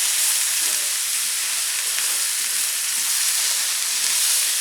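Arborio rice and chopped vegetables sizzle steadily in a hot pan during a quick stir for vegetable paella, a constant bright frying hiss close by with no voices.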